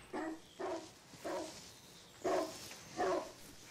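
A dog barks five times in a slow, uneven series of mid-pitched woofs, moderately close over a quiet hiss of background noise.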